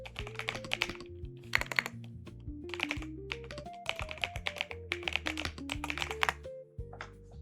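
Fast, steady typing on a computer keyboard, with dense bursts of close, crisp key clicks and short pauses between runs, heard alone.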